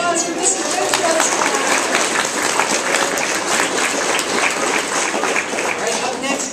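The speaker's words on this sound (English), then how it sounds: "Let's give a round of applause for Mr. Redcrest." Audience applause fills a school music program for a life skills and special needs class, a dense, steady clapping from a crowd sustained evenly throughout with no pauses.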